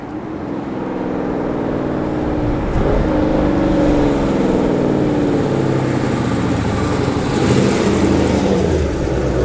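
A Dodge Charger fitted with a Corsa Extreme Plus exhaust cruises in third gear with the windows down, giving a loud, steady low engine drone that swells slightly partway through.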